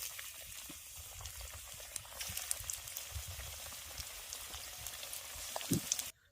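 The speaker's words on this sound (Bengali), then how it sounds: "একইভাবে বাকি পকোড়াগুলোও ভেজে নেব" Cauliflower pakoras deep-fry in hot oil, a close, steady crackling bubble with scattered pops running throughout before cutting off abruptly at the end.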